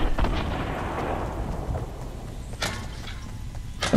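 Grenades burst in a Fortnite match, a heavy booming blast at the start trailing into rumble, followed by further thuds and crackling impacts, loud and close with no talking.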